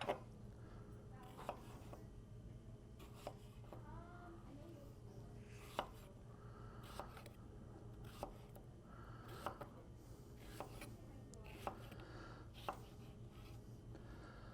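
A knife chops onion on a board into pieces about a quarter to three-eighths of an inch thick, with sparse, sharp, faint strikes spaced irregularly over a low steady background hum.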